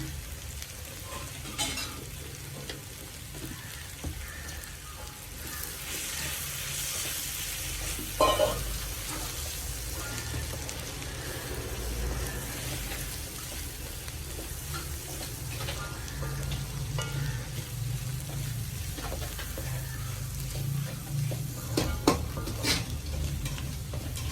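Chili powder being stirred into a frying tomato mixture, a steady close sizzle throughout with scraping stirs and occasional clinks of a spoon against the pan.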